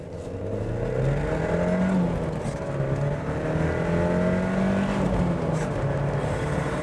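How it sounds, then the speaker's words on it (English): A car rated at 0 to 60 in 6.8 seconds pulls hard from a standstill, its engine note climbing loud and close through the gears with short dips at each shift, no talking. "That's incredible acceleration."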